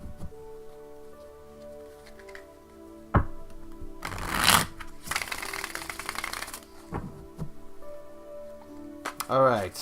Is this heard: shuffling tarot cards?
yes